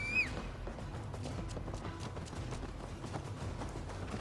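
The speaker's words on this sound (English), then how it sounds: "And now my horse." A horse gallops in Assassin's Creed Valhalla, quiet rapid hoofbeats drumming steadily under faint game ambience with no voices.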